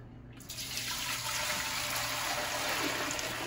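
Water gushes steadily from a tap into a pot, starting suddenly and running continuously at close range.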